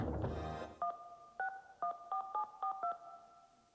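Touch-tone telephone dialing in a radio or TV ad for Clear direct-dial toll calls: a short burst of noise, then seven or so crisp two-tone beeps in an irregular sequence, clean and fairly quiet.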